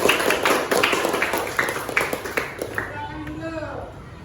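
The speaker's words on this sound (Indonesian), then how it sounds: "Ya, tepuk tangan." Schoolchildren clap in an elementary classroom, a dense run of quick claps fading after a few seconds as a voice rises and talk takes over.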